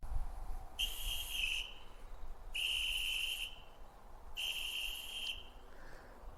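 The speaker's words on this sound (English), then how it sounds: "It's 3 whistle blasts." Three long, shrill whistle blasts sound one after another in a wooded area, each lasting close to a second with short gaps between, as an emergency distress signal over faint background noise.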